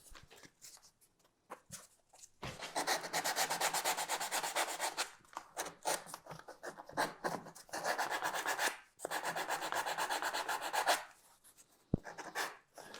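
Sandpaper rubs against an EVA foam cosplay piece in quiet, raspy bursts of rapid back-and-forth strokes, separated by brief pauses.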